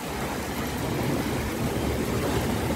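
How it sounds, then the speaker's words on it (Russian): Heavy rain with hail and wind during a thunderstorm in Germany, a dense, constant roar of pelting precipitation without pause. "Этот дождик пошел как громыхнул, гром сейчас, ливень."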